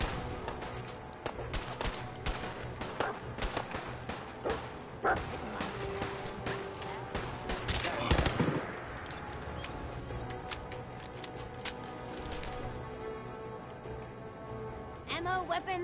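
Gunfire in the video game Fallout 4: rapid cracking shots and bursts rattle continuously, with a heavier blast near the middle, over background game ambience.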